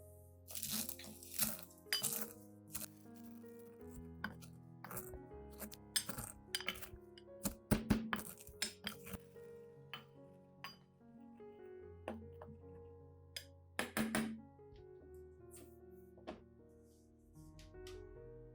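Eggshells being crushed for plant fertilizer, with irregular brittle crunches and glassy clinks in scattered clusters, quiet and close, with pauses between bursts and no talk.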